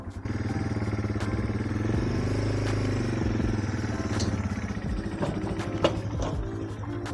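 A motorcycle engine idling then pulling away in first gear with the kickstand up, a steady close rumble with mechanical clatter and rattle, gradually building as the bike gets going.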